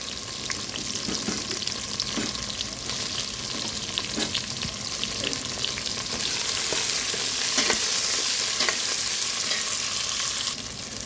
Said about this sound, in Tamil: வெங்காயம் இஞ்சி பூண்டு நல்லா வதங்கிட்டு இப்போ சிக்கனை சேர்த்துருக்காங்க.